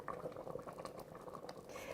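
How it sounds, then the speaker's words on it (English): Corn chowder bubbles and boils in a quick cooker, a continuous close gurgling of popping bubbles, moderately faint and steady without talking. "can you hear it bubbling, boiling?"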